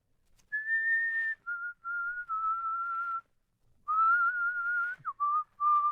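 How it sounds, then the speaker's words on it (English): A person whistles a melody alone in an old-time radio drama, with long sustained notes separated by short pauses, clear and close. "What's that you're whistling?"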